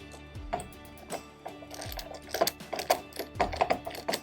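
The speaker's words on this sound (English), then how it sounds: "with your ratchet is to tighten the bolt on one side and then go to the opposite side" A hand ratchet tightens bolts on a dust collector diaphragm valve during a repair kit replacement, making quick repeated clicking strokes in irregular bursts, close and fairly clear.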